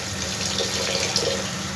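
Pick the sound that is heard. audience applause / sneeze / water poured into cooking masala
water poured into cooking masala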